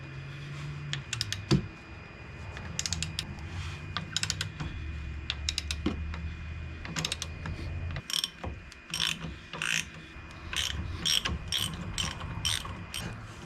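Ratchet clicking in repeated bursts as 18mm bolts come off a Ford F-150 front hub during an IWE delete, rapid pawl ticks up close with pauses between strokes over a low background hum.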